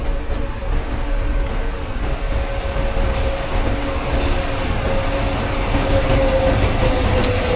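A simulated Ananda Vihar to Howrah Superfast Express, led by a WAP 7 engine with LHB coaches, rolls past on the opposite track in MSTS, a steady, close rumble of wheels and carriages with faint squeal, no voices.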